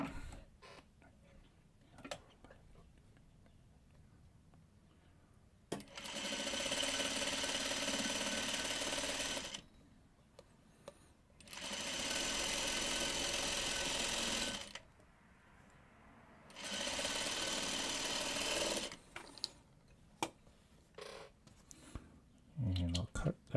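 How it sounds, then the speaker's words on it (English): A sewing machine stitching log cabin quilt strips for a Diamond Log Cabin block runs in three loud, steady bursts of several seconds each, with quiet handling, clicks and soft talk in the pauses between. "Here we go, sewing on another strip."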